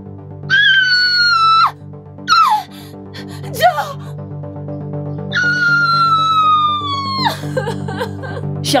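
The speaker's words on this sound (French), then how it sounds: "J'ai entendu quelqu'un crier." A person screams near the microphone in two long, high, wavering cries separated by short gasping shrieks, loud over a steady low hum.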